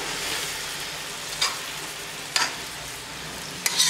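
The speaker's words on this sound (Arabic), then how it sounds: "نقلب المكرونه في الصوص بصوا فرفرت ازاي" Pasta tossed through sizzling sauce in a pan, with a steady frying hiss throughout and a few brief scraping stirs standing out; no one talks.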